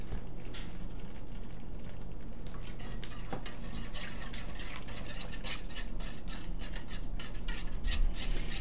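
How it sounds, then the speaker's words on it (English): A whisk scrapes and clinks steadily against the inside of a pot of thickening milk gravy, a continuous rasping stir with repeated metallic ticks, close and fairly loud. "And just keep going with your whisk or whatever you're using until it's a uniform color."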